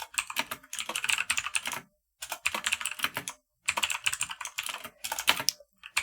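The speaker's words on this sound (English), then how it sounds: "So I will actually fake type that in" Keys on a computer keyboard are tapped in quick, uneven bursts separated by short silent pauses, close and clear with no voice present.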